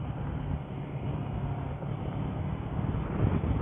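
Steady engine and wind rumble from a 2022 Kawasaki Versys 650 motorcycle while riding, a continuous low drone with buffeting that swells slightly toward the end, no voices.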